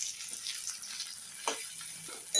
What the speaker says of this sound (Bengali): দেখো আমার পেঁয়াজটা ভালো করে ভাজা হয়ে গেছে।